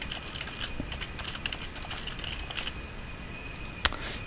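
Keys on a computer keyboard are tapped in short irregular bursts during a Simulink session, soft clicks heard up close with a quiet room hum behind them.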